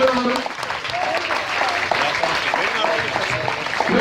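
Sustained applause from an audience at a municipal awards ceremony honouring student athletes, steady and full throughout, with voices talking faintly underneath.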